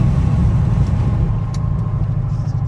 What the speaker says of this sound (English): this truck sounds hella clean, no cap